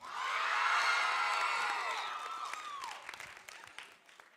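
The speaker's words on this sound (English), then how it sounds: "Alaska, are you excited to church clap?" Crowd at a state FFA convention in Alaska cheering and whooping with clapping, a loud swell that peaks early and gradually dies down, followed by a person speaking.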